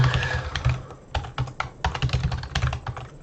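A password is typed on a computer keyboard in a quick, uneven patter of key clicks, close and fairly quiet, with no talking over it.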